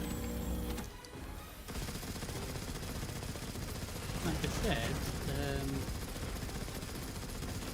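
Gunfire in the video game Destiny 2 rattles in dense, continuous bursts, mixed with mechanical clanking and game effects, under someone talking throughout.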